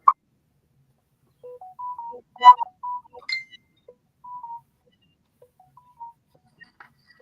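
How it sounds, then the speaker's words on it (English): A phone gives off a short run of electronic notification tones and beeps, sparse and fairly quiet, with gaps of silence between the chirps. "Are those your notifications, Sam?"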